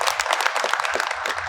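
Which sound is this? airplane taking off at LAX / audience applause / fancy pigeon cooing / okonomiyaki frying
audience applause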